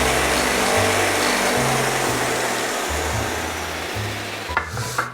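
A modified mini grinder used for shaping shoe trees runs continuously at close range with a steady high whine, its low hum shifting pitch in steps, and a few small knocks near the end.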